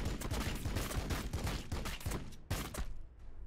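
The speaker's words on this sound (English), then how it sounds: "we're going to use the assault rifle as well" Assault rifle fire in the video game Warhammer 40,000: Battlesector: a rapid volley of close, punchy gunshots in a steady rhythm, briefly broken and then resumed, with no voices.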